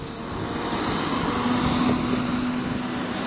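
A double-decker bus passes on West Hill Drive, a downhill road, on an overcast day, heard as a steady, loud engine and road rumble with a faint whine, sustained throughout with no talk.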